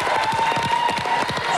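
A French TV game show studio audience applauding, with dense, steady rhythmic clapping throughout, loud and close, with a faint tone running underneath.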